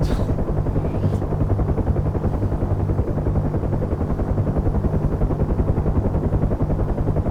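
Helicopter flying low between Batumi and Kobuleti, heard from the cabin as a loud, steady rotor thump with dense engine drone that never lets up.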